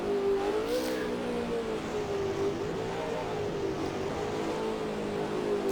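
Race car engine held at full throttle through a fast right-hand bend at Reims in Assetto Corsa, a steady loud droning note that rises and dips slightly without a break.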